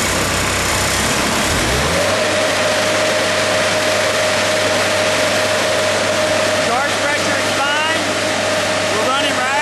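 An Allen HDX 740 pressure washer engine running at full throttle gives a loud, steady drone from start to finish, with a low hum settling in after a couple of seconds.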